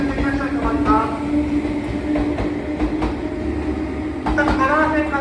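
A Shinano Railway 115 series electric train pulling out of Nagano Station, with a steady rumble, motor whine and clacking over the rails, loud and close, while a voice talks over it.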